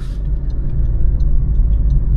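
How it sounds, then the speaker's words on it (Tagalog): Parked car with its engine left idling, a low steady rumble close by with a faint pulsing throb and no voices. "Umaandar pa pala yung sasakyan, hindi ko napansin"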